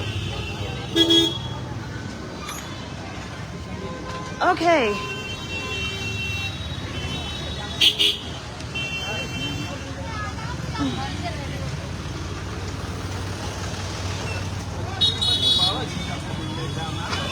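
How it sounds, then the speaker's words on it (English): Car horns toot again and again through busy road traffic in Vrindavan, with short honks recurring over a steady rumble of engines while people talk close by. "Trying to get through the traffic now."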